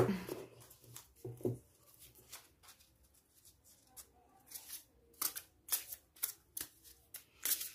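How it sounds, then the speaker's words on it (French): Oracle deck cards being shuffled by hand, a series of soft riffling and slapping bursts that grow busier toward the end, close and fairly quiet, with no talking. "Allez, on va maintenant battre les cartes"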